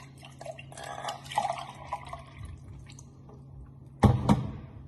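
Water poured from a cup into a measuring cup, a soft trickling splash for the first seconds, then a brief louder slosh near the end.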